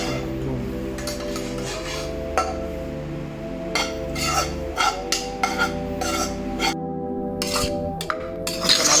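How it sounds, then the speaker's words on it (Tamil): A utensil stirs mint (pudina) paste in a pan while making pudina rice, giving close scraping strokes and intermittent metallic clinks over a steady tonal background. "இப்போ நல்லா கிண்டுறோம்."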